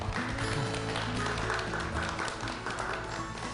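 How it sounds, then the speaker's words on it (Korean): An audience at a Korean talk show or book gathering claps steadily for a few seconds. The applause is dense, even and moderately loud throughout. "우리 박수 한번 드릴까요?"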